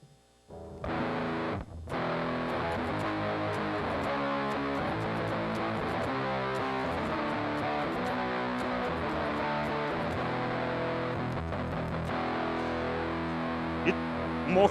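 Guitar played through a fuzz effect processed in JavaScript, a loud, heavily clipped, buzzy tone with sustained chords and notes ringing continuously for several seconds after a brief start, no voices.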